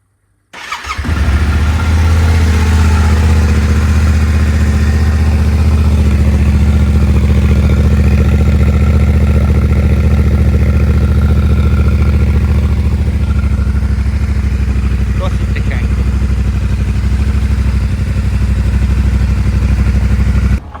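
Yamaha Tenere motorcycle engine idling steadily with its exhaust running, a loud, close, continuous low rumble that holds for about twenty seconds with no talk.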